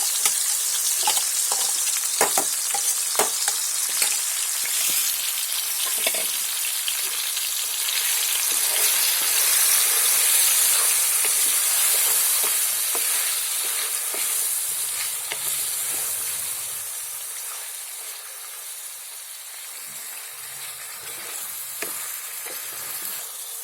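Steady, loud sizzling of chicken pieces frying in oil for biryani, with occasional scraping clicks from stirring throughout.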